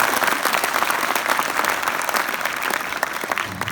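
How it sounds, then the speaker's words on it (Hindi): An audience claps together in a dense, sustained burst, the applause close and fairly loud, tapering slightly toward the end. "एक बार यार ताली बजाओ यार"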